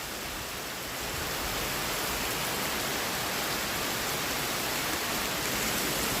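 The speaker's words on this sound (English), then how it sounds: "Coming down now, little gully washer." Heavy downpour in rural Appalachia, a steady dense hiss of rain hammering surfaces that swells slightly after the first second and holds loud and unbroken with no voices.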